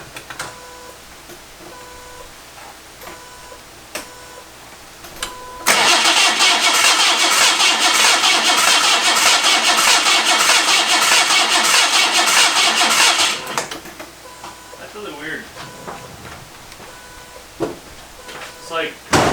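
A long-dormant Datsun 260Z engine cranks and catches, then runs rough and loud for about eight seconds before cutting out, with quieter clicks and shop noise around it.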